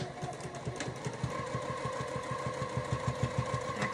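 Close and steady, a sewing machine back stitches a seam on a fabric tissue holder, its needle chattering in a fast, even mechanical rhythm with no pauses or talking.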